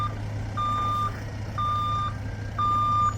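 A brand-new semi truck reverses on a barn construction site, its backup alarm sounding three evenly spaced, steady electronic beeps over a low engine idle.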